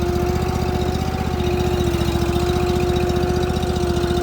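A Ditch Witch 36 inch trencher's engine runs loud and close while the machine is moved, a steady rapid-firing chug with a constant pitched drone and no talking.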